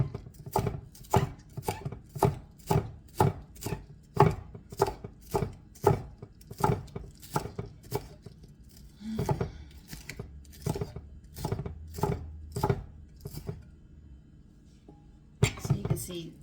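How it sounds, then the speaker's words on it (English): A knife chops vegetables such as celery on a cutting board for a turkey casserole, a steady run of sharp close thuds in even rhythm, pausing briefly before resuming. "this is a lot of just chopping that we do with this dish"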